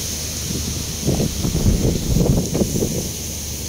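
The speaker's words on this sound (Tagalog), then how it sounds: "Ang hangin." Wind blows outdoors in a steady, gusty low rumble that swells in the middle and eases toward the end, with no voices.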